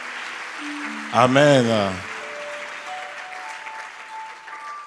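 A church congregation breaks into a short burst of applause, brief and fairly close, under a voice and sustained keyboard notes.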